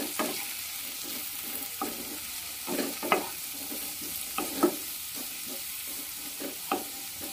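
A spoon scrapes and stirs finely chopped onion into potatoes already fried reddish in a pan for an egg dish, with soft irregular clicks over a low, steady sizzle of hot oil.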